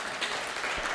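A crowd applauds at an All-Ireland 4-wall men's doubles handball final, a short burst of dense, steady clapping from the gallery.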